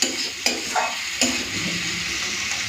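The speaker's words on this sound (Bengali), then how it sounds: "মশলাটাকে এখানে ভালো করে কষে নেব" Spice paste cooking down with tomato and salt in a hot pan, sizzling steadily with a few sharp scrapes of a spoon stirring through it, close and alone.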